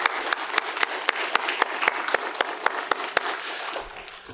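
Church congregation clapping in thanks, a fairly sparse, rhythmic run of distinct sharp claps, close and clear, fading slightly toward the end.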